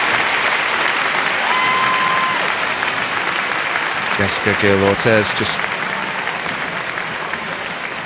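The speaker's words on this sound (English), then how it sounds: "clap goes up as she's put onto a stretcher" Arena crowd at the 2009 World Gymnastics Championships applauding as an injured gymnast is stretchered off, steady clapping throughout with a commentator's voice partway through.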